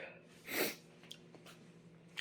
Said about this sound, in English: I just sneezed like 10 times.